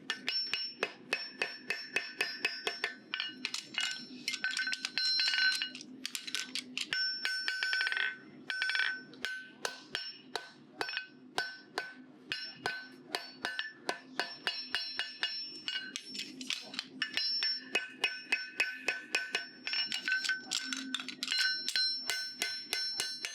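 Flat face of a farrier's hammer striking a horseshoe, working from the base of the heel toward the toe: a fast run of sharp, ringing metallic blows close by, steady rhythm with brief pauses, no talk.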